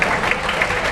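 A comedy show audience applauds at the Edinburgh Fringe, a dense, steady patter of many hands clapping that carries through the whole moment without a break.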